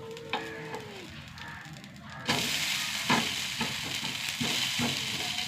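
Food frying in ghee in a pan and being flipped, a steady sizzle that turns louder partway through, with a few scraping, clattering knocks as the pieces are turned, close up and with no talking.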